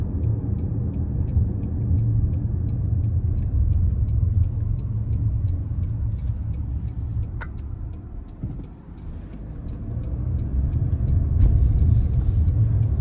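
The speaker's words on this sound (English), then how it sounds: "The tires, I can hear them on this rougher industrial road here" Steady road and tire roar from a 2025 Toyota Corolla Cross L on a rough industrial road, a continuous low rumble heard from inside the cabin with faint ticking throughout and no talk.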